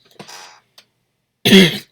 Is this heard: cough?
yes